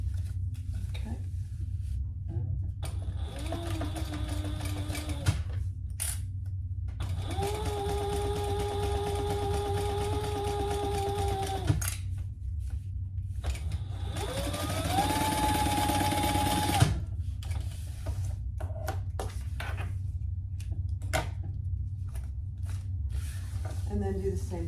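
A sewing machine bastes fabric flat while assembling a bag, running in several separate bursts of steady, humming stitching, each several seconds long, with quiet pauses between runs.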